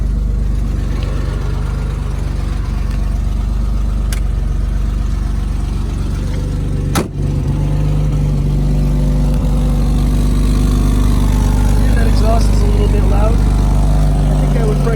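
A 1971 Mercedes 280 SL's engine idles steadily and close, a continuous low hum with a single sharp click midway, while someone talks over it.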